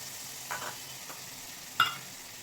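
Greens, potato and eggplant fry together in a pan with a faint, steady sizzle, broken by a few quiet clinks and stirring taps.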